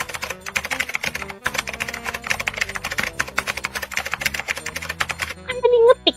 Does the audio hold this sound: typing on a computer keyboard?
yes